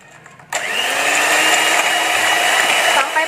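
An electric mixer whisks cake batter for a cake bread. It switches on after a short quiet moment and runs as a steady, close, loud whirring drone until it cuts off near the end.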